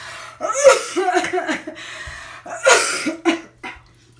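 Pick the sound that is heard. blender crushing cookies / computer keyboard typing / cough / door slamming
cough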